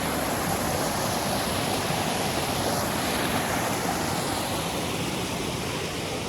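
Steady, loud rush of water roaring continuously throughout as a lake overflows near Madanapalle, like a broad overflow pouring over a weir, with no voices.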